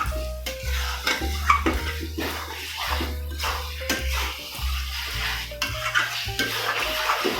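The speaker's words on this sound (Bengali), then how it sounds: "ভালোভাবে এইভাবে কষে নিতে হবে।" Jackfruit and prawn curry with tomato is stirred and sautéed in a pan, with repeated scraping strokes and a soft sizzle over background music.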